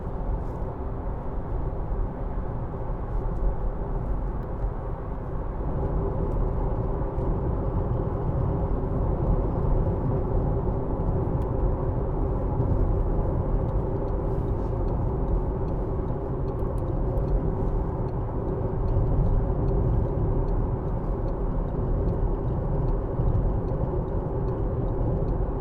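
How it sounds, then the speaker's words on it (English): A 2015 Audi A1 1.4 TFSI Sport S Tronic pulling hard at motorway speed, with a steady, loud low engine and road rumble that holds constant throughout, no voices over it. "Plenty of acceleration, even at motorway speeds, so you're not tapped out at 70 miles an hour."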